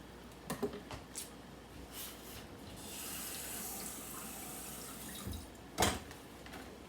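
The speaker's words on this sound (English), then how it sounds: "Let me just wash this lemon out." Faint kitchen tap water runs while a lemon is washed under it, with a few light knocks and clinks before the stream and a louder clatter near the end.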